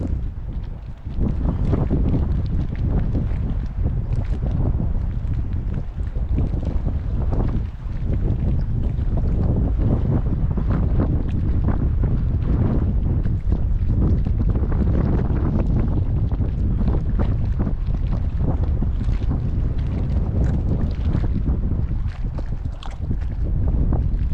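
Wind blows hard across a lake during bass fishing from a boat at Penrith Lakes in Australia, a loud, continuous roaring buffet against the microphone with gusting surges and low rumble throughout.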